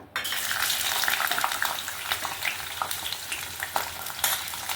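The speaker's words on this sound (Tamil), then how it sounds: "அதில் நல்லெண்ணெய் ஊற்றிக்கலாங்க. பூண்டு போட்டுக்கலாங்க." Garlic fries in sesame oil in a kadai, giving a steady close sizzle with occasional stirring scrapes and clinks throughout.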